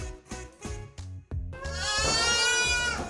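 A hungry goat kid bleats for milk, first with several short, close bleats in a quick series, then with one long, loud, drawn-out bleat.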